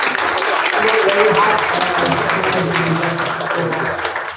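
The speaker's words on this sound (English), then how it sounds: "Can we give her a big clap?" An audience claps steadily for the event organiser at a Malaysian book forum, a dense wash of applause lasting several seconds while someone speaks over it.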